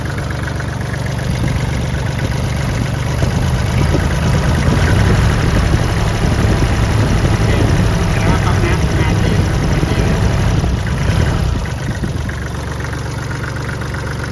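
The diesel engine of a Kubota L3408DT tractor idles loudly and steadily up close, a rough low rumble with a slight knocking texture that swells briefly mid-way.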